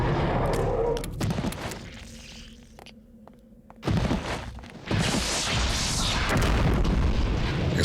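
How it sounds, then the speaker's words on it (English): Several loud, booming explosions from the video game Eternal Darkness: Sanity's Requiem, with some blasts louder from enchantment, erupt in heavy bursts with a quieter lull between them and no talking. "Explosion sound."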